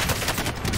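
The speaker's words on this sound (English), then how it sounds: "Something very satisfying about watching an LMG just shred through an entire squad." Light machine gun fire in Warzone, a short rapid burst of shots, close and loud.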